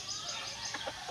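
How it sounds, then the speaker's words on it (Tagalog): Faint clucking from chickens on a Philippine farm where fighting roosters are kept tied up, a few soft short calls over a steady outdoor background hiss. "May manok din po dito si Makoy ng mga sasabungin."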